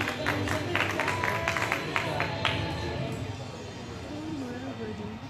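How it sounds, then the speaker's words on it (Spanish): Loud applause from an audience at a recognition ceremony in El Alto honoring the Always Ready football club, dense clapping through the first half before thinning into crowd murmur. "Los aplausos fuertes."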